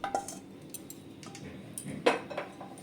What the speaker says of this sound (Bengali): খুন্তি দিয়ে খুব ভালো করে নেড়ে চেড়ে একটু ছড়িয়ে দিলাম, যাতে তাড়াতাড়ি ঠান্ডা হয়ে যায়।